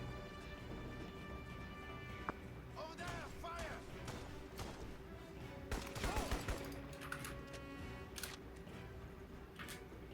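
Gunfire in Crysis sounds as scattered loud shots and short bursts among game effects, with a cluster of heavy impacts in the middle and a voice talking over it.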